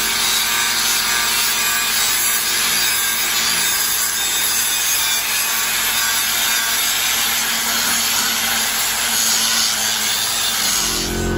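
Angle grinder working rusty metal on a trailer swivel jack stand mount before welding, a loud, steady, harsh abrasive whine that runs continuously throughout with no pauses.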